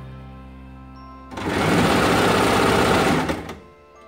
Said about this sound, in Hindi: जहाँ तक लाइन है आप बस वहीं तक सिलाई लगाएं।